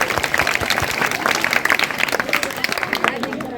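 Students applauding at a school award ceremony, loud rapid crowd clapping sustained throughout with murmuring voices and movement mixed in, close and busy.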